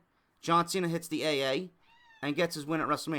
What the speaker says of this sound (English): And my cat's meowing at me.